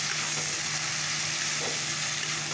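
Bottle gourd and fish curry sizzles in a pan with a constant, loud, close hiss and crackle, unbroken for the whole stretch.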